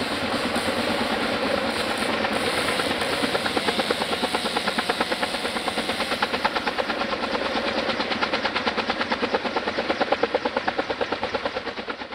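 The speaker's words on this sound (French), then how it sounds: "selon l'inaccessibilité avec des hélicoptères" A helicopter working along a river for forestry operations, its rotor giving a steady, fast, rhythmic thudding chop with a broad engine roar, loud and continuous for the whole stretch, alone without talk.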